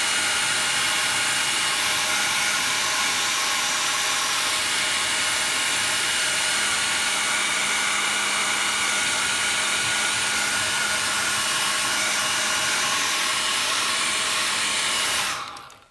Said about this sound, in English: if you have a hairdryer to hand, please just dry off that section quickly